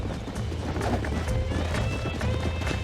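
Hooves of horses galloping in the Red Dead Redemption video game on Xbox 360, a dense, continuous drumming of clip-clops at close range with no pause.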